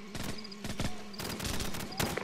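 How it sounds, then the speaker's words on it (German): Gunfire from the game Call of Duty 4: Modern Warfare Remastered crackles in several quick bursts of sharp shots, fairly close and moderately loud, without talk over it. "Schüsse auf 12 Uhr"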